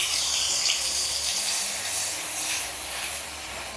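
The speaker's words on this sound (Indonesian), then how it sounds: "Di kompor sebelah sini aku mau tumis bumbu sangrai sama bumbu yang tadi," Roasted spice paste sautéing on a stovetop for coto Makassar, a steady bright hiss of sizzling oil running throughout at moderate level, with no voices.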